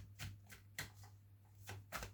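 A deck of tarot-style reading cards shuffled in soft, close bursts of riffling, about five quick flurries over two seconds with a steady low hum underneath.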